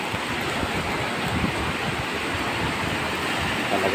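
Steady roar of typhoon surf with a broad wash of noise, waves breaking against rocks, with wind adding to the constant rush throughout.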